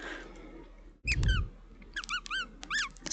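A squeaky rat toy gives a string of sharp, high squeaks after a heavy thump, the squeaks coming in rapid pairs and bursts.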